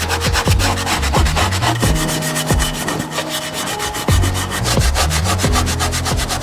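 Steel wool scrubs the rusty rim of a retro caravan's spare tire, a loud, close, rhythmic rasping of rapid back-and-forth strokes with brief pauses, and no one talking.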